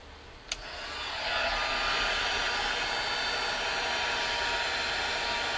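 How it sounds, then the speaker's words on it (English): A heat gun blows hot air onto a stenciled birch tree painting from a distance, its steady airy rush swelling in after a brief click and holding constant. "Actually, this is a heat gun, but I'm keeping my distance."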